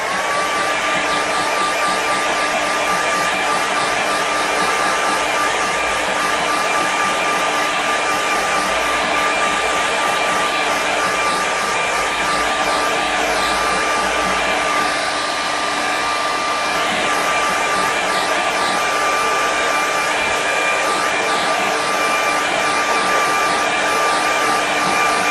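A hair dryer blows steadily and loudly on a seascape painting, a continuous close whir with a faint high whine that holds unchanged throughout.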